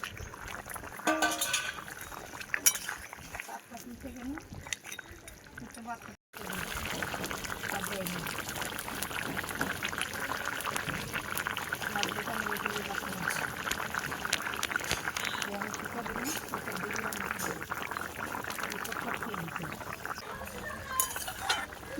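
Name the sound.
fish added to boiling broth for Bengali macher jhol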